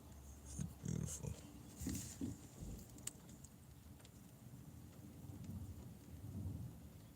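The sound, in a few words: rain and thunder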